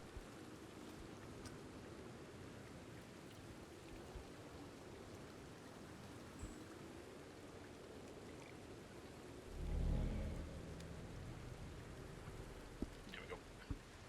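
Steady, faint rain patters in Red Dead Redemption 2 as a soft continuous hiss, with a short louder low whoosh midway and a few scattered light ticks.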